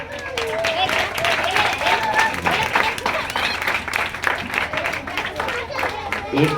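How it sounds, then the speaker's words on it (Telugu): Children at a vacation Bible school clapping together in praise, a sustained burst of many small hands applauding steadily, fairly close and filling the room. "దేవుని స్థుతితో అందరూ కూడా క్లాప్ చేద్దాం"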